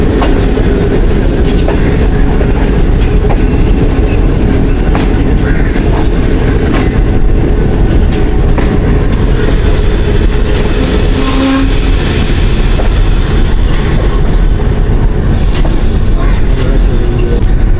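The Awam Express passenger train passes on the main line with a loud, continuous rumble and rhythmic clickety-clack of wheels on rails, broken by brief squeals and a horn-like tone, all heard at close range.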